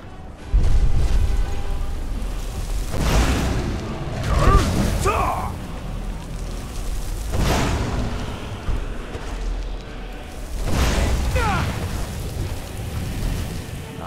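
A Skyrim dragon shout of fire breath, several roaring whooshing blasts with low rumble, interleaved with a player's voice talking.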